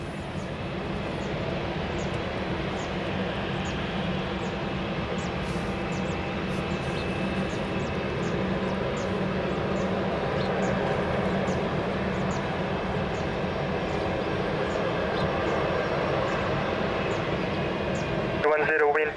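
Airliner taking off on runway 20 at Lisbon Airport, a steady broadband engine roar holding at constant loudness throughout, with faint radio or spotter voices underneath.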